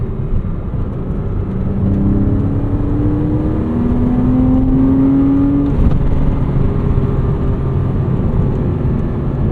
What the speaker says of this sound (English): This is a very high revving, happy engine.